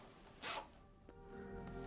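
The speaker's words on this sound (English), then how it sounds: "The zip sound didn't match with the audio." A single quick zipper pull rasps close and moderately loud from a TV drama scene, followed by quiet room tone with a faint tap.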